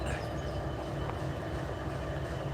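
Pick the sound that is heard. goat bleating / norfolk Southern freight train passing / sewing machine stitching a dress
norfolk Southern freight train passing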